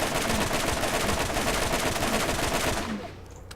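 Rapid automatic gunfire from a combat rifle in the video game Borderlands, a dense sustained burst firing loudly and continuously for almost three seconds before cutting off abruptly.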